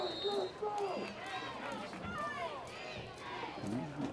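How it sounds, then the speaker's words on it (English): A student section crowd roars in the background at a night high school football game between UMS-Wright and St. Paul's, a steady swell of cheering under continuous commentary. "Calling his student body section to cheer him on there."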